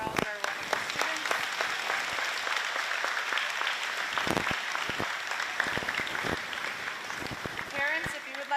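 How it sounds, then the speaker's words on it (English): Sustained audience applause for graduating sixth-grade students at a school ceremony, dense steady clapping with scattered sharper claps and voices mixed in throughout. "another round of applause for all of our wonderful students"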